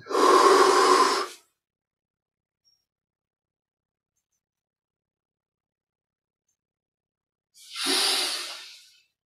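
Two deep breaths taken during a stomach-recharging yoga breathing exercise, each a broad airy rush lasting about a second, close and clear, with long silence between them.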